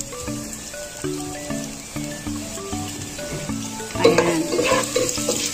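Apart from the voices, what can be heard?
garlic and onion sautéing in pan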